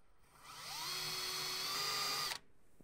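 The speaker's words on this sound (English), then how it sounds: "you've got to drill your own hole" A small drill bit bores a hole through a board during front folding bench assembly for a Z Grills grill, a high steady whine that climbs, holds about two seconds, then cuts off abruptly, fairly faint overall.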